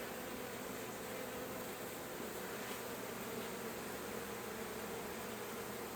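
Many honeybees buzz in a continuous, dense drone around a queen cage during an indoor package installation, a steady close hum with no talk.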